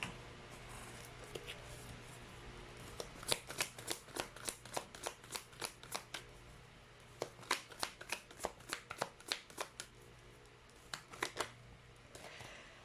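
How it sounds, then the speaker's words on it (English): A deck of tarot cards being shuffled by hand in quiet bursts of crisp riffling clicks, several separate rounds with brief pauses between them, fairly close and soft. "Let's try to pull up another set of cards."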